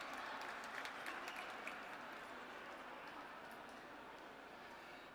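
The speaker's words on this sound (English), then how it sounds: "Let's have a round of applause for CHCF." A gala audience claps for the organization, producing a dense, even wash of applause that slowly tapers as it continues, heard from some distance in a large room.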